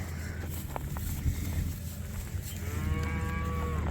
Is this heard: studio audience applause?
no